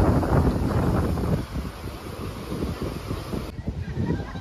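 Strong wind buffets the microphone on the beach at Mandarmani, a steady loud roar with gusty rumble throughout and the faint wash of surf beneath, easing slightly toward the end.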